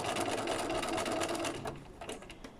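Sewing machine stitching with light blue top thread and dark blue bobbin thread: a steady, close mechanical whir running loudly throughout, easing slightly toward the end.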